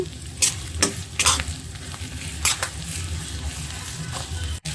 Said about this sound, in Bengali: এদিকে পেঁয়াজটা লাল করে ভেজে নিচ্ছি